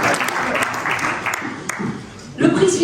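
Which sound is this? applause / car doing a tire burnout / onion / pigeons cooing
applause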